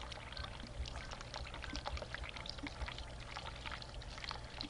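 Tap water running steadily in The Cat Lady, a continuous pouring splash with faint irregular trickles, fairly quiet and unbroken, with no voices over it.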